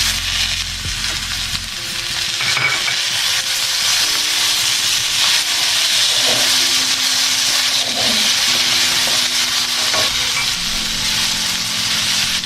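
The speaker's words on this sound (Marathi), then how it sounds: "कांदा तांबूस झाला की त्यात आता कापलेले टमाटर टाकतोय" Chopped tomatoes hit browned onions in a hot pan for masala Maggi, a steady loud sizzle with frying crackle and occasional stirring scrapes throughout, no voices.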